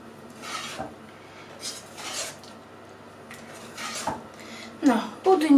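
A utensil stirring milk pudding as it cooks in a pot, with a few scraping, rubbing strokes against the pot spread apart, a sharper clink near the end, and faint speech.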